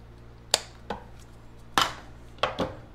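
Wire cutters snipping through the white wire of a touch lamp: a handful of crisp metallic clicks and snaps spaced irregularly, close up and fairly quiet, with no voices.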